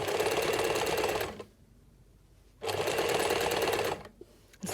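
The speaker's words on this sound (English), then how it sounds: "Let's see if this machine starts. It does. I'm stitching in the ditch." A sewing machine stitches in the ditch along a quilt's bound edge, two loud steady bursts of rapid stitching separated by a pause, with no talk.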